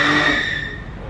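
At a car meet, a car engine roars close by with tire noise and a squealing, skidding edge, loud and continuous for a brief moment.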